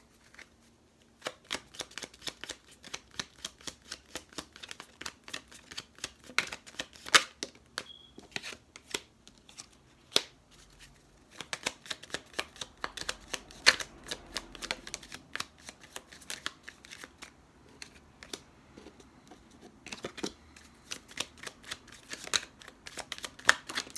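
Oracle cards from the Pure Love Oracle deck are shuffled and pulled, heard as dense, rapid riffling and flicking bursts with short pauses. The sound is close and crisp throughout, with no talking.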